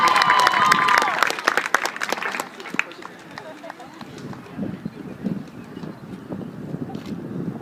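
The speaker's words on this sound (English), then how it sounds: "Let's have a round of applause for Cassie." Crowd at a high school girls' soccer senior night clapping and cheering, loud at first with whoops, then fading into scattered claps and murmuring chatter.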